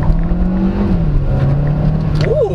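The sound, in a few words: 2024 Kia Seltos SX accelerating hard in sport mode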